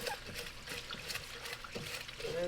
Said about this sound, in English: Got the water going on.